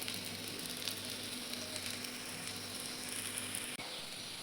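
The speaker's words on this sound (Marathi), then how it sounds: "साईडून पण व्यवस्थित तळून घ्यायचे आहेत आपल्याला." Poha and besan snacks fry steadily in hot oil, a soft continuous sizzle heard close up with no talking, broken only by one brief tap near the end.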